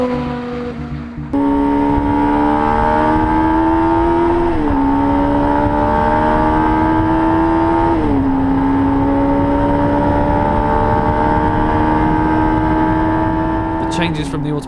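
Jaguar C-X75 hybrid supercar with an automated manual gearbox accelerating at high speed, a loud steady engine whine climbing in pitch, dropping sharply at each of several gear changes, heard from close inside the car.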